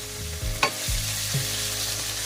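Marinated chicken seasoned with crushed black pepper sizzles steadily in a hot pan while being sautéed, with occasional clanks of a utensil stirring against the metal.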